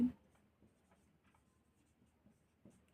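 Pen or chalk writing strokes during a Sanskrit lesson, a run of soft scratchy marks spaced irregularly across the stretch, with a louder tap at the start and near the end, close and quiet with no talk over it.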